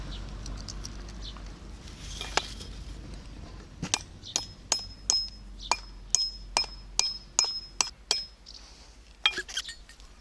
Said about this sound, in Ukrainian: Так, тепер забиваємо сюди.